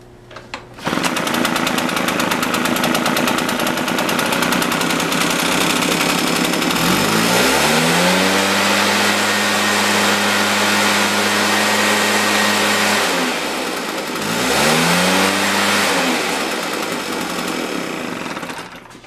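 A Husqvarna 150BT backpack leaf blower, fitted with a new piston and cylinder and warmed up, runs without choke: loud, close two-stroke engine noise that revs up sharply, holds high, dips and surges again, with no talking.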